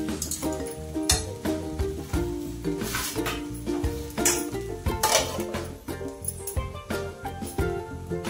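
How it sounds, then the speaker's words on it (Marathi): Metal clinks and clatters as a lid is set on a pot of khichdi, with several sharp close knocks and rattles spread through the clip and no talking. "त्याच्यावर आता थोडंसं झाकण ठेवायचं"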